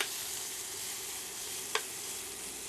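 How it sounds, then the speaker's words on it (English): Onions with a splash of soy sauce sizzle steadily in a hot pan, a bright continuous hiss broken by two sharp, distinct pops. "we're going to stir that in as we've got stuff popping all over the place"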